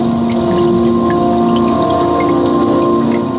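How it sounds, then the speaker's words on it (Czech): Dripping water and rain sounds played through the sound system of a Mercedes-AMG SL 55 convertible, a steady, loud wash of patter with steady tonal hum underneath, continuous throughout. "jsem opravdu někde u nějaké studánky, kde kape voda a slyším, jak prší"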